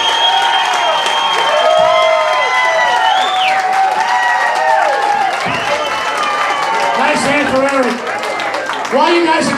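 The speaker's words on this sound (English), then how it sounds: "While you guys are clapping" Audience clapping and cheering at an outdoor festival singing contest, a steady loud wash of applause with crowd noise, while a voice speaks over it through much of the stretch.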